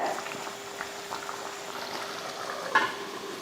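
A pot of country chicken gravy simmers with a continuous soft bubbling and gentle sizzle close by, broken by one brief clatter near the end.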